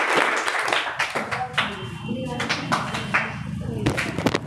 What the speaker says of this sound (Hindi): अनुराग के लिए ताली बजाओ